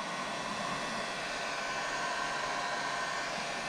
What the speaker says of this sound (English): Now, take the heat gun. Give it a bit of heat.